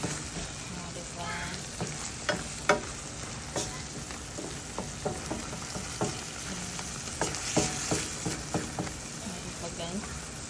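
Garlic butter shrimp frying in a pan, a steady broad sizzle with scattered sharp crackles and pops and occasional stirring clatter throughout, fairly close.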